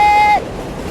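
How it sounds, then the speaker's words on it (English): A New York 7 subway train roars past, loud and close, with a high metallic squeal riding over the rumble that cuts off partway through. "That's the sound of the 7 train."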